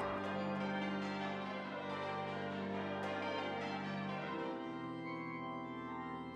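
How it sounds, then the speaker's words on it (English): Church bells ring in the tower of Leeds Minster, a dense, sustained wash of overlapping tolls that stays loud and steady throughout, with no talking. "I'm only going to give you a teaser of the bell ringing in this tower"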